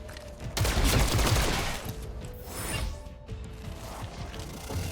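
Gunfire from the turn-based tactics game XCOM: Chimera Squad hits as a loud burst of rapid shots and crashing impacts, followed by mechanical clatter and quieter rattling as the action settles.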